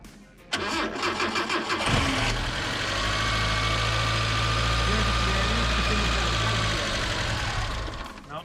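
A 1981 Mitsubishi Colt engine cranks with a rapid rhythmic churning for a couple of seconds, catches, and settles into a loud, steady idle close by, with brief voices at the start.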